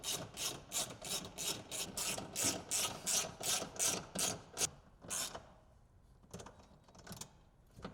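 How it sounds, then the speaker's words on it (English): A hand ratchet drives screws while Polaris floor rails are fitted to a 2024+ Polaris Xpedition. It gives close, crisp rhythmic clicking strokes in steady bursts, then a pause and a few slower clicks. "Then install the rails and 2 screws in each of the floor channels."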